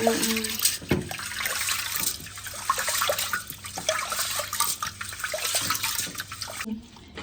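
Water running and splashing as rice rinse water is tipped out of a pot during washing, a continuous close liquid pour that cuts off abruptly at the end.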